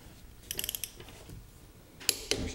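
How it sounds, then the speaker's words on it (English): A torque wrench tightens car wheel nuts, giving two short bursts of quick ratcheting clicks, close and fairly faint, separated by a brief pause, with no talk. "So let's go ahead and torque these up to 80 foot-pounds."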